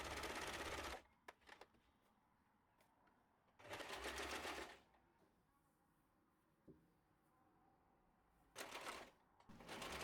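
Sewing machine hemming the straight front edge of a wrap dress with a double folded hem, stitching in three short bursts separated by quiet pauses and small handling clicks.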